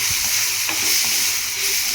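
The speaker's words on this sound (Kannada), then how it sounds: "ಈಗ ಇದಕ್ಕೆ ಒಂದು ಅರ್ಧ ಸ್ಪೂನಷ್ಟು ಜೀರಿಗೆ ಹಾಕೋಣ." Cumin seeds sizzle in hot oil in a pan while a hotel-style red chutney is made, a loud, steady crackling hiss that fills the whole moment, close up and without voices.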